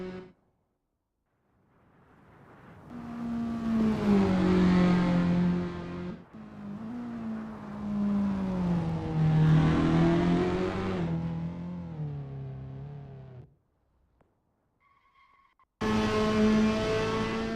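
Toyota S-FR race cars in Assetto Corsa roar through two long loud engine runs, revving up and sliding down in pitch with gear changes, separated by brief quiet gaps, before another car bursts in at the end.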